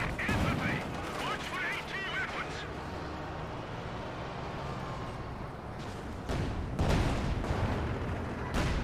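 Gunfire and sniper shots in the World War II strategy game Company of Heroes 2, a steady crackle of distant small-arms fire with several sharper, louder shots near the end, under a commentator's voice.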